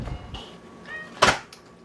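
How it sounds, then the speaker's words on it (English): The entry door of a 2011 DRV Elite Suites RV opens, giving a light click followed by a sharp latch clack and a small rattle, close and brief against a quiet background. "stand at this doorway, open the door,"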